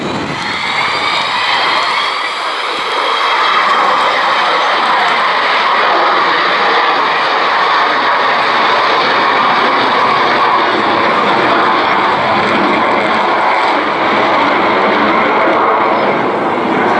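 The Avro Vulcan XH558 bomber at the 2015 Cleethorpes air show, a loud sustained jet roar that swells after a couple of seconds and holds steady throughout, with no talk.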